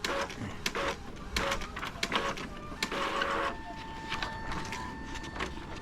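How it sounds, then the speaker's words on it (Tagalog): An inkjet printer runs again after a repair of a pin jam and double-blinking lights, giving repeated mechanical whirs and clicks of the print head carriage with steady motor tones, close and clear. "Nagpiprint na uli."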